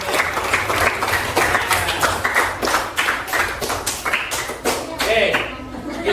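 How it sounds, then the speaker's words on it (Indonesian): Classroom of students clapping together during a teaching assessment lesson, a loud, dense run of sharp claps that swells and fades in waves over several seconds, with voices mixed in. "tepuk tangan untuk semuanya"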